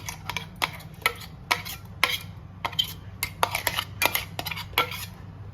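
A ground jeera-pepper paste for kadhi being scraped from a mixer jar into a bowl, heard as a rapid series of sharp metallic clinks and taps from a spoon against steel, close and irregular, with no talk.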